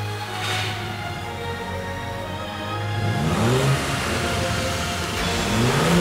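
A sports car with a 2000 cc turbo engine producing 200 horsepower sits at a steady idle, then accelerates hard, its close, loud engine note rising in pitch through the gears.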